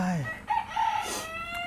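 Mini Cochin chickens, a rooster and hens, crow and cluck close by in a short burst: a rising crow followed by a couple of clucking calls and a higher squawk, with no talking.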